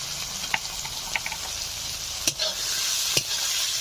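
Chopped tomato, ginger-garlic paste and slit green chillies hit onions already frying in a pan for a Ritha fish curry, setting off a steady sizzle with a few sharp crackles and pops over a few seconds, no talking.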